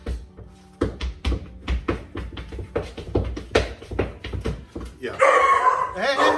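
A dog barks indoors at home in a string of sharp, closely spaced woofs. A person briefly speaks among the barks, and a burst of rustling noise follows at the end.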